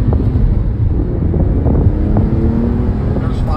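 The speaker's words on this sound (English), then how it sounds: "we started out with the window down. That's why you're hearing all that noise." Steady loud wind roar buffets through the open window of a driving 2008 Porsche 997 Carrera Coupe 6-speed, with engine rumble underneath throughout.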